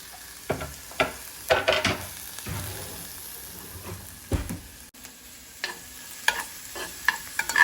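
Salmon patty ingredients frying in avocado oil in a skillet, with a steady sizzle under repeated scraping and stirring strokes from a utensil, close by and with no talking.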